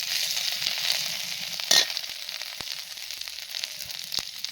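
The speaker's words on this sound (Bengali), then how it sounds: "থেতো করে নিয়ে এই তেলের উপরে দিয়ে দেব মাছের মাথাটা" A crushed rohu fish head sizzles and spatters in hot oil in a pan, a steady close frying hiss with one brief louder crackling burst near the middle.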